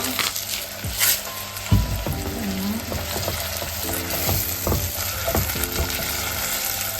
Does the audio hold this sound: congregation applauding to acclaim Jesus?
no